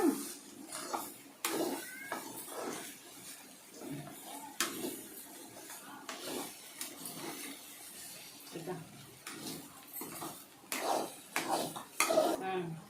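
Coconut and lentils frying in a pan for a panaganti leaf and toor dal dish, with repeated scraping and metallic clinks of a spoon stirring close by, someone speaking over them.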